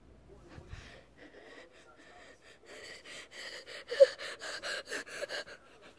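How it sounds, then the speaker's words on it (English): Heavy, rapid breathing from a child, starting quietly and building into loud rhythmic gasps and pants near the end, with a voice talking faintly at the start. "why are you breathing so heavily?"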